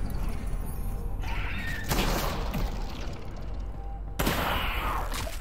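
Gunfire in the video game Half-Life: Alyx comes as dense, loud bursts of shots and impacts, with sharp onsets near the middle and toward the end, all over a constant harsh background.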